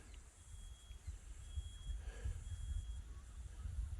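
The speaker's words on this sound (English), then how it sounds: "just me with the fire alarm beeping" A fire alarm beeps with thin, faint tones that come and go under steady outdoor ambience at a quiet campground near a fire brigade office.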